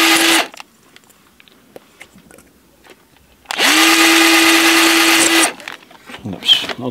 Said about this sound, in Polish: Dobrze, odłączamy wkrętarkę.